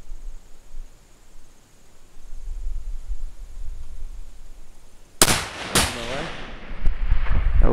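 A long-range rifle shot fired across a gully at an 800 metre target breaks a quiet, breezy stretch with a sharp, loud crack, quickly followed by a second report, then ringing decay.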